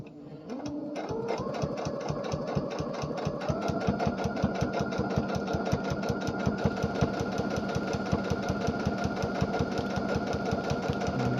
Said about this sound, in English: And I sew at just the normal basic stitching.